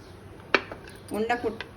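Spoon clinking against a bowl while vanilla powder is stirred into fruit salad, one sharp metallic tap followed by a few softer scraping clinks, close and quiet.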